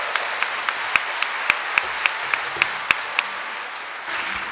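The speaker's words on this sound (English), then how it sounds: "How about a big round of applause for Donald Shaw and all the fantastic committee here at Celtic Connections." Applause from a concert audience at the Celtic Connections festival: a steady broadband wash of many hands with a few sharper, closer claps standing out. It thins toward the end.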